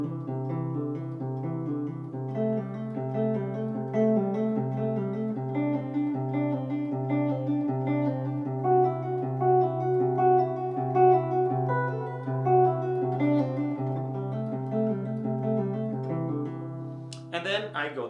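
Guitar notes step through a moving line against one held, ringing note, played steadily and close for most of the passage, with a brief sharp noise at the very end.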